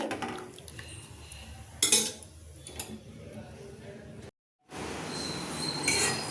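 Vermicelli is stirred into boiling milk in a pot: close spoon clinks and scrapes against the metal over a soft bubbling hiss, with one sharper clatter and a brief drop to silence.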